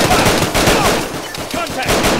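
Rapid, loud Glock 17 pistol fire in the Arma 3 video game, heard as a dense volley of overlapping close shots with a bit of voice chatter mixed in.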